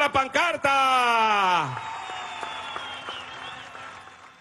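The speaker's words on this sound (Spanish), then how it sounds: "vamos a darle un aplauso a los que están bajando la pancarta" At a political rally in Apure, Venezuela, a loud drawn-out shout opens, then a crowd's applause carries on as a softer, steady outdoor wash that gradually fades.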